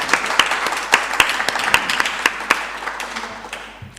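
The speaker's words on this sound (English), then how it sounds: "A big applause." A conference audience at the Europe in Italy event applauds, with crisp individual claps standing out over a thick round of clapping that gradually thins and fades away.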